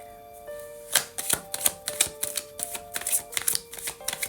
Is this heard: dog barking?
no